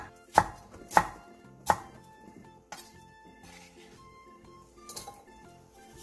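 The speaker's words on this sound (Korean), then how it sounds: "양파 2분의 1개를 도톰하게 채 썰고 청양고추 2개, 청양홍고추 1개를 어슷 썰게 해주세요" A knife chops through onion and green and red chili peppers on a cutting board: several sharp, close thuds near the start, then softer, sparser cuts with faint clinks.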